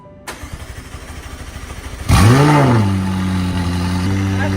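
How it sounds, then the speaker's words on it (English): Supercar cold start: a starter whirrs in quick rhythmic pulses, then the engine catches with a loud bark and revs up before settling into a high, steady fast idle, very close and loud. "we actually need a cold start"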